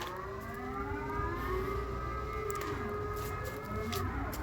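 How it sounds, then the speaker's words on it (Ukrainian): A civil defense siren wails in long rising and falling tones during a monthly test in a Dutch village, distant and steady, with faint outdoor ambience and no talking. "В Нідерландах ось така тренувальна тривога."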